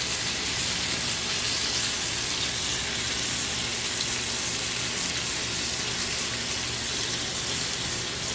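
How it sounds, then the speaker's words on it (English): Applewood bacon sizzles in a pan as a steady, loud hiss of frying fat that fills the whole stretch without a break. "So we'll put some bacon on there."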